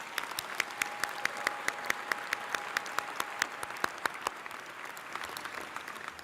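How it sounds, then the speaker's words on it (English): Audience at a law school recognition ceremony applauding the staff, a moderate room-filling patter of clapping with several sharper nearby claps standing out, steady for about six seconds. "Can we give them a round of applause?"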